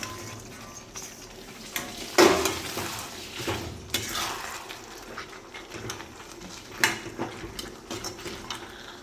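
Kasuri methi chilli chicken cooking in sauce is stirred in a pan, giving a low simmering sizzle broken by sharp metal clinks and scrapes of the spoon against the pot at irregular moments.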